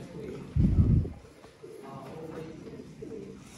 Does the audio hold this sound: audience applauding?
no